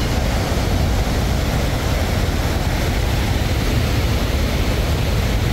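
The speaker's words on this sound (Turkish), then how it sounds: "Karşıdaki şelale Lottefos'un şöyle iki ayrı koldan akıyor." Lottefos waterfall in Norway pours down in two separate branches, making a loud, steady, broadband roar of rushing water with no pauses and no voices.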